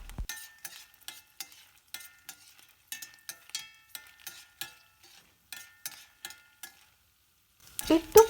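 Dried turkey berries (sundakkai vattal) frying in a pan, crackling and popping in a steady run of sharp, close bursts. No one talks over them, and a louder clatter comes in at the end.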